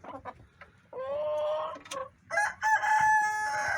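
Sick chickens and a rooster losing its voice: a close rooster gives a hoarse, strained crow amid short clucks and squawks from nearby hens, several calls in a row with brief gaps.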